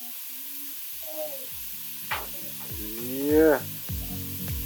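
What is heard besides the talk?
butter bubbling and sizzling while frying Jamaican curry shrimp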